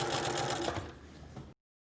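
A sewing machine runs steadily, stitching an under collar to a back neckline, with a continuous close mechanical whir lasting about a second and a half before cutting off abruptly into silence.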